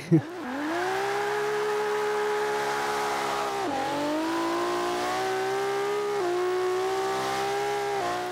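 Nissan 240SX (RPS13) drift build fitted with an RB engine in Forza 5, a game car engine firing up with a brief blip, then holding a steady loud rev with small dips and pickups, alone without talk.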